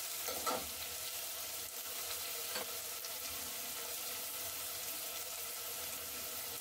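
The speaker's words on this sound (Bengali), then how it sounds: "ভালো করে আমি লাল করে ভেজে নিচ্ছি পেঁয়াজটা।" Onions frying in a pan until reddish-brown, a steady close sizzle running throughout with a couple of soft scraping stirs.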